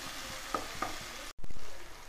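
Chopped tomatoes sauté in a hot pan for chicken curry, a steady broad sizzle with a couple of soft stirring clicks. A brief silent break is followed by louder, denser frying.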